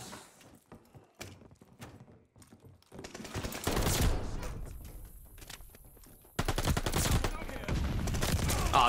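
Gunfire in a first-person shooter video game during a 6v6 match, sparse shots early giving way to loud, dense sustained bursts and rapid fire that dominate the rest.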